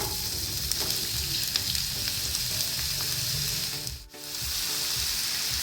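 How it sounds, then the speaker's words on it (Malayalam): Sliced onions frying in two tablespoons of oil in a pan for egg puffs, a steady close sizzle with scraping stirs, briefly dipping near the end before resuming. "അതിലേക്ക് നമുക്ക് സവാള ഇട്ട് കൊടുക്കാം"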